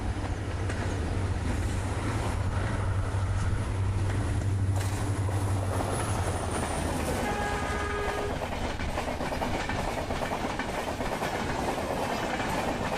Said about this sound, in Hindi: एक विशाल लोकोमोटिव।